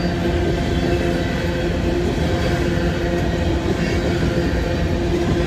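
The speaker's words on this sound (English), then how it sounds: "This is an empty coal train headed back to be loaded" An empty coal train passes nearby, a loud, steady rumble of rolling wagons with faint clacking, sustained throughout without voices.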